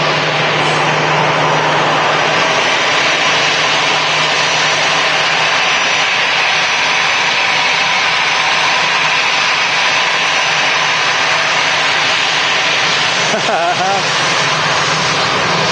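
Loud, steady roar of an EasyJet airliner's jet engines at Manchester Airport, a broad continuous wash of sound that stays close and constant throughout, with a brief swoosh near the end.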